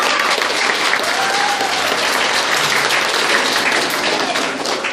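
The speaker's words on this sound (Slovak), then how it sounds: "Poprosím opäť o potlesk" A live audience at a teleshopping parody show during a family day event applauds in a dense, steady burst of clapping with no break.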